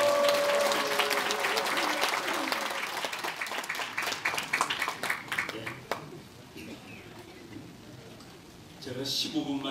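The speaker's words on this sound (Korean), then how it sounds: "박수로 모시겠습니다." An audience in Sejong Hall claps to welcome a speaker, loud dense applause that thins out and fades over several seconds, with a brief burst of sound near the end.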